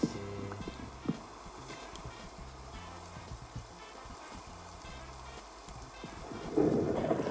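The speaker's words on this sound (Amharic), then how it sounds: "ኧረ ዝናብ ጀመረው ደግሞ" Rain and rumbling thunder in the video game Minecraft, a steady hiss of rainfall with low rolling rumbles, swelling louder near the end.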